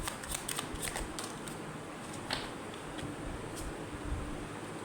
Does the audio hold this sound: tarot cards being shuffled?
yes